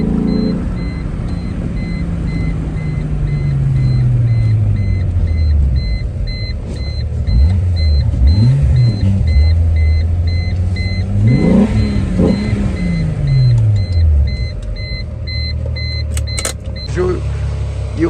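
A VW VR6 engine rises and falls in pitch through repeated hard revs at full throttle, loud and close, with a voice briefly audible over the engine noise.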